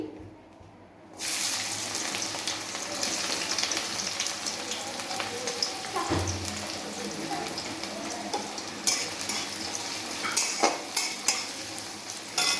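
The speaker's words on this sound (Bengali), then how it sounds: "তেল খুব ভালোভাবে গরম হয়ে গেছে। আমি এর মধ্যে দিয়ে দিচ্ছি পেঁয়াজ কুচি" Chopped onion hits hot oil in a pan and fries with a steady, loud sizzle, stirred now and then with a few sharper scraping clicks near the end; no one talks.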